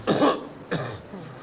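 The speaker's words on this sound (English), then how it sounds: "Could you ask him to cough?" A patient coughs twice during a medical examination in Gaza, harsh and close, with a short pause between the coughs.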